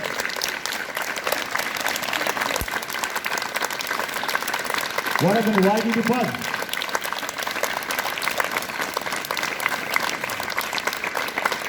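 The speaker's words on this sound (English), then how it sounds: "if you clap your hands for 2 minutes, you will get maximum energy" Students clap their hands continuously at a morning school assembly, a dense steady crackle of many hands lasting the whole stretch, with a voice briefly speaking over it partway through.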